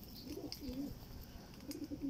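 A racing pigeon at a derby loft gives soft, low, repeated coos, fairly faint over a quiet background hiss, with no one talking.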